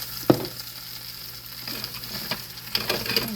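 Hamburger steak patties sizzle steadily in a frying pan, a constant hiss with a few soft clatters and scrapes from the pan, recorded close with no talking.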